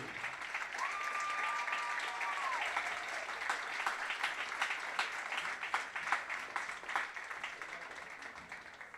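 Steady crowd applause at a high school baseball game for Kaylee Nance, moderately distant and continuous, with a brief whistle-like tone near the start.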